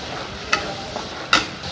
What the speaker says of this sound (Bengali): গোটা জিরে, পেঁয়াজ, আদা, রসুন একসঙ্গে পেস্ট করে নিয়েছি, দিয়ে দিচ্ছি। মশলাটা আমি কষে নেব।